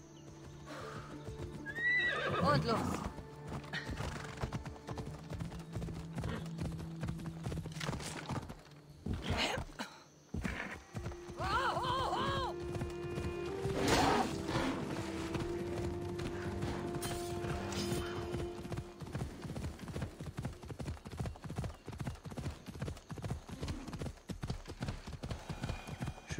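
Horse hooves clip-clopping at a gallop in Assassin's Creed Odyssey, with neighs and whinnies over game music; the rapid hoofbeats run steadily through the second half, and a voice speaks briefly near the start.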